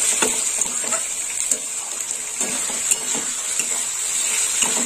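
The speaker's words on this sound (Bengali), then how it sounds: "মশলাটা ভালো করে ভাজা হোক।" Garlic paste and spice paste sizzle steadily in a hot pan for an egg and capsicum dish, with a spatula scraping and clicking through the oil at an irregular pace, close and fairly loud.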